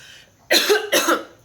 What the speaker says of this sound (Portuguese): uma erva entra na minha garganta e eu começo a tossir